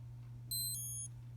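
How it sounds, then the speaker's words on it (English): A Seiko H558-5000 digital watch alarm gives a short, high, thin electronic beeping burst lasting about half a second, close and fairly faint, over a steady low mains hum with no voices. "Alarm works."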